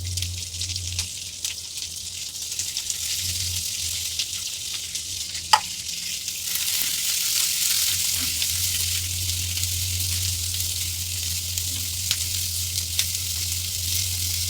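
Vegetables and green chilies for Manchurian gravy fry in a hot pan, a steady close sizzle with a low hum underneath and an occasional sharp clink, no voices.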